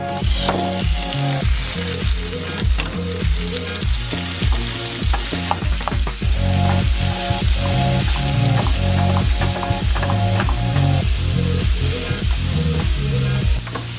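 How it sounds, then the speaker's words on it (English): Sliced tofu frying in a pan, giving a steady close crackling sizzle with irregular louder pops and stirring scrapes throughout; no voices. "so now I let the tofu fry"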